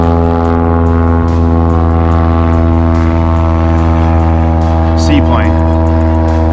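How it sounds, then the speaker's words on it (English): A seaplane engine drones steadily nearby over a lake, a strong low hum with stacked harmonics holding throughout while a brief rising whine cuts through near the end. "Seaplane."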